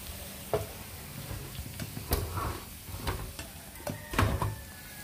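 Hot oil is poured over food, giving a faint, steady sizzle broken by several sharp clacks and knocks from utensils or a pan.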